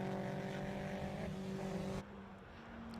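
A race car at the Snetterton 300 circuit during a 750 Motor Club meeting drones past with a steady engine tone, then drops away abruptly as it moves off, leaving a quieter fading rumble.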